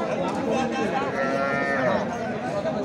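A cow at a busy cattle market gives a loud, drawn-out moo close by, rising and falling over a couple of seconds above a background of crowd chatter.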